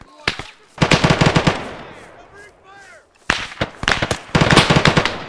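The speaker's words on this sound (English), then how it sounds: "Enemy fire!" Automatic rifle and machine-gun fire from the military shooter game Arma 3 crackles in loud, rapid bursts, split by a short lull of distant, softer shots before heavy firing resumes.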